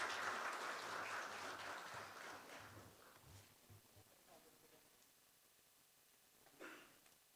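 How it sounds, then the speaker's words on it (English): Applause at a college event fills the opening seconds, loud at first and then thinning and fading away, followed by quiet room noise and a brief scuffing sound near the end. "Can we have a huge round of applause as I request the leaders of each team to please come up here."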